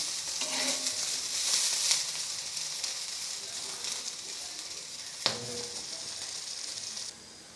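Bavchi seeds roast in oil in a pan with a steady broadband sizzle, a brief sharp click of the spoon near the middle and the frying continuing until it cuts off near the end.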